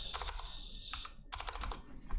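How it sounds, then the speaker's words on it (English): Quick clicking keystrokes on a computer keyboard, close and quiet, in a brief burst with a short pause midway. "Now let me press enter."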